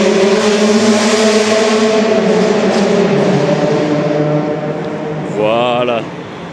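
A tuned Honda car engine revs hard and loud at a Japanese highway rest area near Osaka, holding a steady high-pitched drone. The revs climb at the end as it eases off, with no one talking over it.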